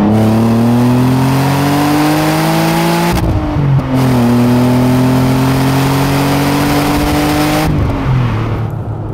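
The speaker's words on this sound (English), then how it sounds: "That fabled Busso lump is a wonderful thing, very characterful" An Alfa Romeo 156 GTA Sportswagon's Busso V6 of about 250 horsepower revs loudly and close, pitch rising steadily through two long pulls with a short break between them, no voices over it.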